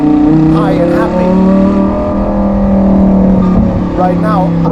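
Lamborghini Huracan Tecnica with a Novitec exhaust, its naturally aspirated engine revving loud and close with rising and falling sweeps, someone talking over the engine throughout.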